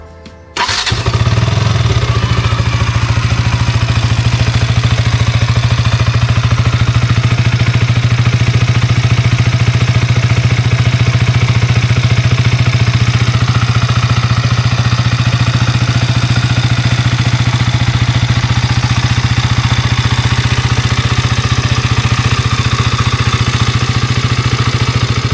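A KTM Duke 200 motorcycle is push-button started, firing up at once and then settling into a steady, loud, close idle with an even low engine drone that continues without a break.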